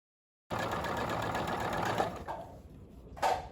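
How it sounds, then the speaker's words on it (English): A sewing machine stitching a French seam on a pillowcase gives a steady, close mechanical whir for about two seconds, stops, then runs again in a short burst. No one talks. "I'm gonna continue sewing straight"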